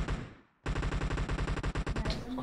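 Rapid automatic rifle fire from an M762 in PUBG, a fast, evenly spaced burst of loud shots after a short lull, ending with a faint trailing noise.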